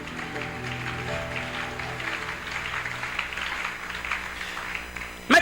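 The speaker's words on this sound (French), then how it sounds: "Acclamons d'abord pour notre bien-aimé Job." A church congregation applauds for Job during a pastor's sermon, with steady, sustained clapping over a low musical hum that carries on evenly for several seconds before a sharp thump at the end.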